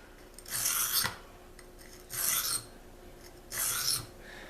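A knife blade drawn across a Tri-Hone sharpening stone makes three distinct rasping strokes, evenly spaced, close and crisp against a quiet background with no talk.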